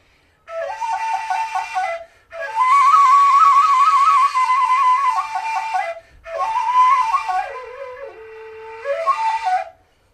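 A breathy wooden Ethiopian flute plays a few wavering melodic phrases with short pauses between them, close and fairly loud, no voices.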